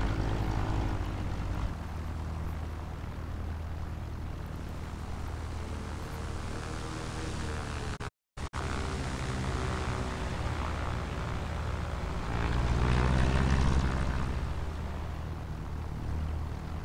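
A simulated airplane engine drones during takeoff in the Infinite Flight game, a steady loud propeller-like hum that briefly cuts out midway, then swells slightly louder near the end.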